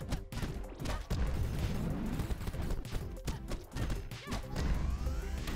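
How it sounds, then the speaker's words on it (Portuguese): Rapid gunfire and impact blasts from a Nintendo Switch action game, dense bursts of shots and crashes layered over game music, loud and continuous for several seconds. "É bem legal o tiro."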